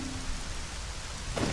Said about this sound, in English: it's only raining right here, which is interesting